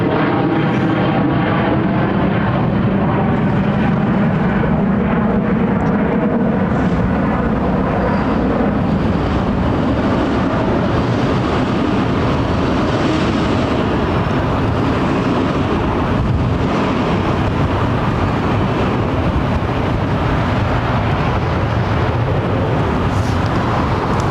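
A KLM Boeing 737 with CFM56 engines departing Heathrow's runway 09R, its engine roar loud and sustained overhead, a broad steady rumble with wind buffeting throughout.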